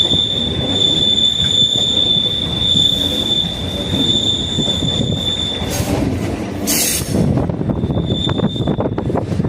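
A suburban train pulls into Chennai Beach railway station, its wheels squealing in a loud sustained high whine over rumbling, clattering rail noise, with sharper screeches near the end.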